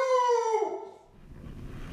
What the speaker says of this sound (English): She barked and barked.